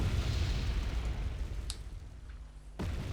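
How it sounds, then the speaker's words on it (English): Artillery, Smerch rockets and mortar fire shell positions in the video game Wargame Red Dragon, heard as a dense rumbling barrage that thins out before a fresh booming impact near the end. "we're really being shelled with smerches, with regular artillery, with mortar fire."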